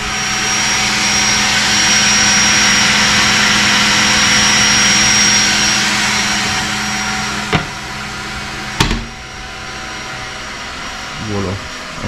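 Cooling fans of a Creality K1 3D printer whir in a steady, loud broadband rush with a faint high whine, then wind down toward the end, broken by a few brief clicks and knocks.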